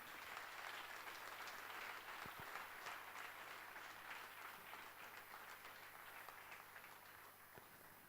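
Audience applause at a healthcare industry webcast event welcoming the president and CEO of GE Healthcare, steady, dense clapping from a large crowd lasting the whole stretch and slowly fading slightly.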